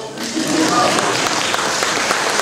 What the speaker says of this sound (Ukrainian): Оплески, оплески! Ми зустрічаємо Оксанку бурхливими оплесками.